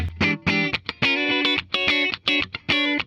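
Bright, snappy electric guitar, a 2022 Fender Japan Stratocaster HH in the middle pickup position, playing funky staccato chords in short rhythmic bursts, with a light effects sheen.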